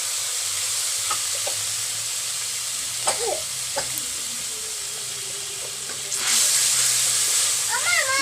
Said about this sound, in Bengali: এবার এই মশলাটা এতে দিয়ে দেবো। এতে হলুদ গুঁড়ো দিয়ে দেবো।